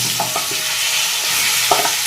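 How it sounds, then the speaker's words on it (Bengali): Green peas stirred and fried in hot oil in a kadai, a steady sizzle with a few scraping stirs of a spatula near the start and again toward the end. "কড়াইশুঁটিগুলো আমি তেলের মধ্যে নাড়া দিয়ে ভেজে ভেজে"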